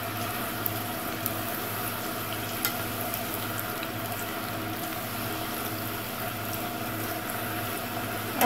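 Sweet potatoes deep frying in vegetable oil at home, a steady low crackling sizzle holding level and fairly quiet throughout, with no talk.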